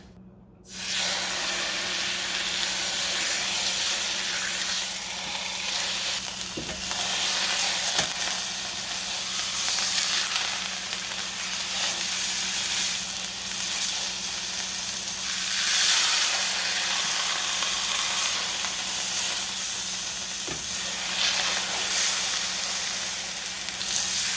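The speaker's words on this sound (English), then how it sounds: "now we're going to sear our roast" A beef roast searing in olive oil in a hot pan on medium-high heat, a loud continuous sizzle and hiss with occasional soft pops, steady for over twenty seconds with no talking.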